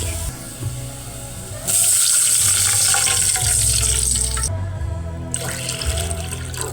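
Water pours from a tap into a cooking pot for fish soup over sautéed garlic and onion, a steady loud rush that starts a couple of seconds in, with a brief break near the end before it resumes.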